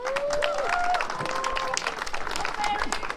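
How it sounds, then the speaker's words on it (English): Crowd applause for the podium finishers at the ARA Sno*Drift rally awards, moderate and fairly distant, mixed with cheering voices and an announcer talking over it. "One more round of applause for Barry and James."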